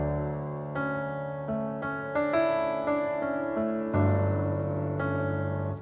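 Piano tracked via MIDI, treated with Metric Halo MBSI EQ and compression, playing slow sustained chords in a ballad style, with clear separate attacks and ringing decays, solo and close.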